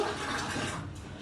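Water poured from a glass into the inner pot of a rice cooker for cooking rice, a short, steady splashing rush heard close up with no talking.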